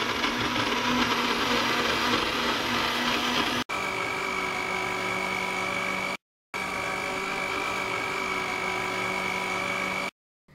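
A blender whirs steadily, blending banana, dates and milk into a smoothie: a loud, even motor drone that cuts out briefly twice, then restarts.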